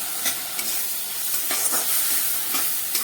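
Spice paste of turmeric and salt fries in oil for a prawn curry, giving a constant bright sizzle broken by soft periodic stirring scrapes, close up and unaccompanied by speech.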